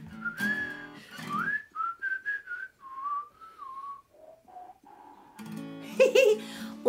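A person whistles a slow, wavering melody of sustained notes and short phrases, close and clear, with a few breathy blown notes and brief talking or noise at the start and end.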